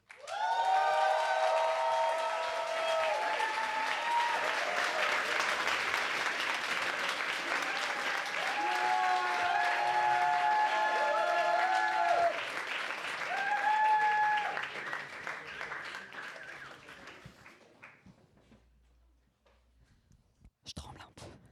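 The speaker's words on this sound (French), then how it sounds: "Je vous demande un tonnerre de douceur, d'applaudissements pour Pauline." Warm, sustained audience applause at a slam poetry evening greets performer Pauline. The clapping carries scattered cheers and calls, runs strongly for over a dozen seconds, then tapers off into near silence.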